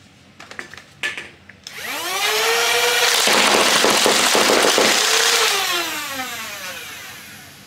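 A Nerf EMission V6 full-auto flywheel blaster fires with its barrel removed: a few clicks, then a loud, sustained whirring burst of rapid shots lasting about four seconds that winds down with a falling motor whine.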